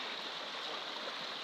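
Steady river water flowing during the third crossing of a stream, a continuous broadband rush heard at moderate distance with no voices over it.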